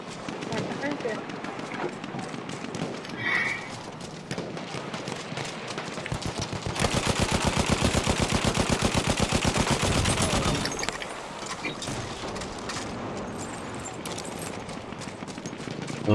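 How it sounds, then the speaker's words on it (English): Rapid bursts of gunfire in the Ilya Muromets bomber online game, a dense rattling fusillade that swells loudest midway, with talk over parts of the stretch. "Oh, I hear bullets."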